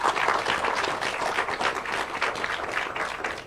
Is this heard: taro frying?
no